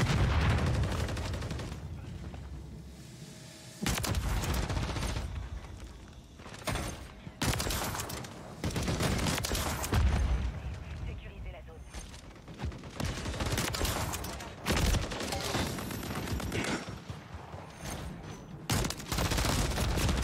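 Gunfire in Call of Duty Modern Warfare 3 multiplayer, repeated heavy bursts of automatic fire and explosive shots separated by brief gaps over twenty seconds, loud and close, with faint game sounds between volleys.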